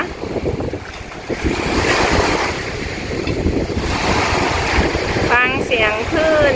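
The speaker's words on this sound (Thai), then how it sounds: "มีเสียงคลื่น เสียงลม" Strong sea waves and gusty wind on Pattaya beach near moored fishing boats, a loud continuous roar of surf with buffeting wind on the microphone and a voice talking over it near the end.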